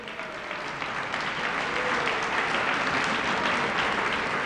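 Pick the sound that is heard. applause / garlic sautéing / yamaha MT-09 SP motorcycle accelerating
applause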